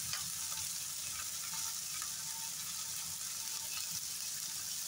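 Onion with green chillies frying in a pan, a steady, fairly loud sizzle and crackle that carries on without a break and is heard on its own.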